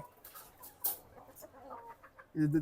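A laying hen clucks in short, soft bursts close by, with a louder squawk near the end, in a quiet poultry setting.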